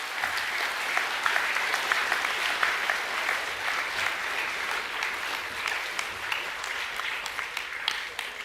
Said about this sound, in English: Can we give those groups of people a round of applause, please?